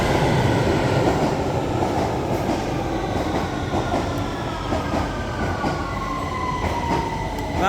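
A train rolls into a London-area underground station platform, its wheels clattering and squealing over a steady loud rumble that stays close and continuous, with no talking.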